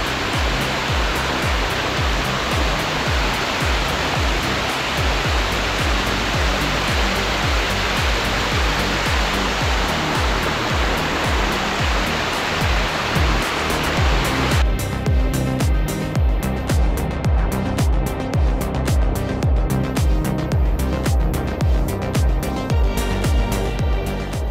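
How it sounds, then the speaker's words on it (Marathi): A waterfall on the Jivdhan fort trail roars loud and close in a continuous dense rush of water that stays steady for the whole stretch, with no voices over it. "आता तुम्हाला मागचा फॉल दाखवायचा आहे मला स्पेशली"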